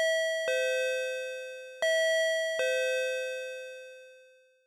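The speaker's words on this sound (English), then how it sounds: "a chime rang. The one you hear when you enter a convenience store." A two-tone electronic convenience store entry chime plays twice, clear bright bell-like tones ringing out and fading, with no one speaking.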